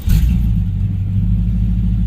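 A box Chevy engine cranks and rumbles to life up close, a steady loud low idle running alone after a brief initial burst.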